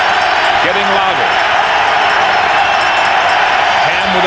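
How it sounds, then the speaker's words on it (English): A large football stadium crowd at a CFL East Final between Montreal and Hamilton, a dense, steady roar of cheering that stays loud throughout, with brief whistle-like tones rising over it. "Crowd getting louder."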